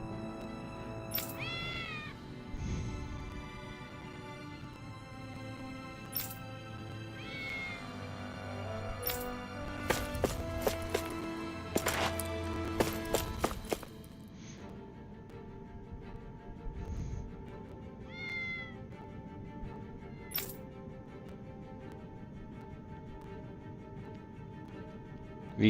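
A cat meows several times in Tales of Arise, brief mews scattered over a steady bed of game music with sharp chimes, the meows moderately clear above the score.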